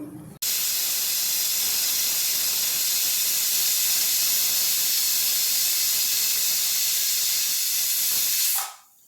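A pressure cooker whistle suddenly bursts into a loud, continuous hiss of escaping steam that holds for about eight seconds before quickly cutting off.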